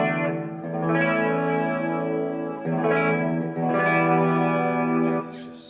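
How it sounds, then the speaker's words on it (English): A GROTE solid-body electric guitar plays sustained chords through a clean amp with reverb and a little vibrato, ringing out in three swelling phrases with a shimmering, wavering tail, loud and alone. "I'm playing clean amp with some reverb and maybe a little bit of vibrato going on"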